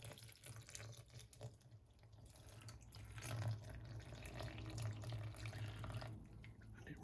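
Water, 400 millilitres, runs into a bread machine pan in a soft, steady trickle with faint splashing, quiet and close, continuing for several seconds.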